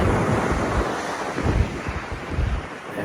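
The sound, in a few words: wind and surf at Bells Beach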